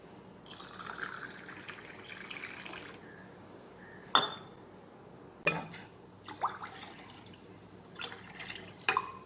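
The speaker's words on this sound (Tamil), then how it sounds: "இதில் 1 டம்ளர் தண்ணி நம்ம விட போகிறோம்" Water is poured from a tumbler into lemon juice mixed with sugar and nannari syrup, soft trickles and drips broken by a few sharper splashes and glassy clinks, close by and fairly quiet.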